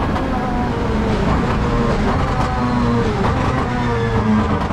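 Inside a Mazda prototype race car on track, the rotary engine screams loud and close, a dense continuous howl with shifting tones as it pulls through the gears, no talking.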